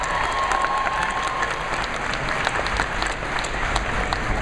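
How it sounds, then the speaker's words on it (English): A large audience at a comic convention panel applauds loudly and steadily, dense clapping with scattered cheers filling the room throughout. "big round of applause for you guys."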